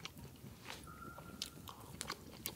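Rye bread being bitten and chewed outdoors in a forest at night, with close, faint crunches and soft mouth sounds repeating irregularly.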